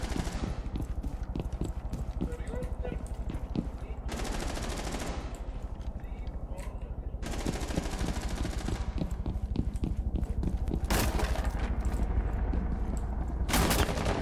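Rapid gunfire in Rainbow Six Siege, with bursts of automatic fire and repeated shots in a continuous loud barrage, broken by several sharp bright cracks, lasting throughout.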